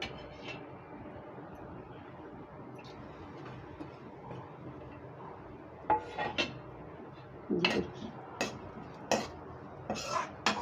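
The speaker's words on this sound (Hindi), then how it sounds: "गरी को भी हल्का सा भूनना है, ज़्यादा नहीं भूनना है।" Dry coconut pieces are stirred while lightly roasting in a pan. Faint scraping is followed by several sharp metallic clinks and taps of a spoon against the pan in the later half.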